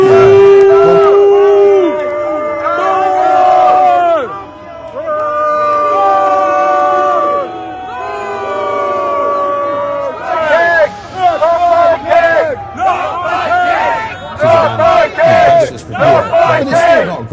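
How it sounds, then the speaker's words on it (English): Crowd at a political event booing and chanting, with loud rhythmic shouted chants and jeers rising and falling, then choppier bursts of yelling toward the end; voices dominate throughout. "Don't mind you, everybody gets booed."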